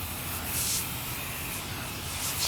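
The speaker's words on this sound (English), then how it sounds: "So let's try the Meguiars on this, see how it does. I'm gonna apply a nice thick coat" Meguiar's bug and tar remover is sprayed onto a car in a thick coat, making a close, steady hiss with brief stronger puffs from the sprayer.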